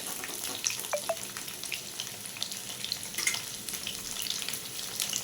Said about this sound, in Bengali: আলু নাড়াচাড়া করে লাল লাল করে ভেজে নেব